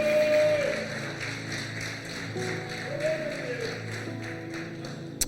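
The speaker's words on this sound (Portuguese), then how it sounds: "Vamos aplaudir ao Senhor." A church congregation applauds for the Lord with a rhythmic wash of clapping that fills the room, mixed with voices and a brief sharp tap near the end.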